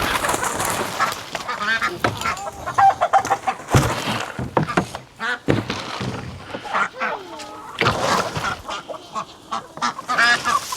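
Chickens and other fowl clucking and squawking at a coop during feeding time, a dense, continuous chatter of close bird calls with louder bursts, mixed with some human speech.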